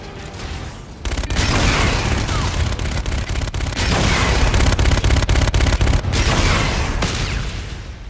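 Grenade blasts and heavy gunfire in Call of Duty Infinite Warfare multiplayer, a loud, dense barrage of booms and rapid shots that bursts in after a quieter second and rumbles on continuously.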